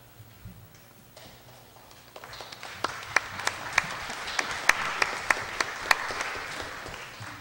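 An audience at a National Aboriginal Day event applauds after a chief's welcome speech, starting faint and swelling into steady clapping with a few sharp, distinct claps standing out near the end.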